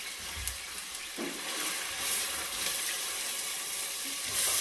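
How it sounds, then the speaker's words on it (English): Onions dropped into heated oil for pilau, a continuous close hissing sizzle with occasional faint clicks and light stirring, no voices. "after the oil has heated, I put my onions"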